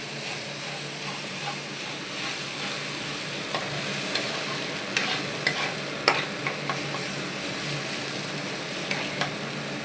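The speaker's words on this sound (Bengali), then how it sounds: "এটা যত ভাজা ভাজা হবে তত ভালো হবে, একদম পুরো ড্রাই করে নিতে হবে।" A dish is fried and stirred in a pan until fully dry: a steady close sizzle runs throughout, broken by irregular scraping clicks of the spoon against the pan, with no talk.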